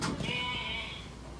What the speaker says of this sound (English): If you're in the shower, listen there. To the sheep.